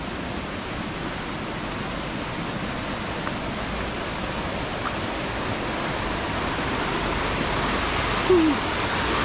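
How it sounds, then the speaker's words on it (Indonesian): A small river flows in a remote village area on a hillside, producing a steady, broadband rush of water that stays even and fairly loud from start to finish. "di sini ada sungai kecil"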